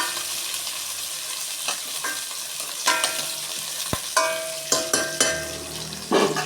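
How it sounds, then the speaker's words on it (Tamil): Small onions (shallots) sautéing in a pan for mutton curry, a crackling sizzle broken by repeated spatula scrapes and knocks against the pan, growing busier toward the end. "சின்ன வெங்காயத்தை நல்லா வதக்கிக்கிறோம்"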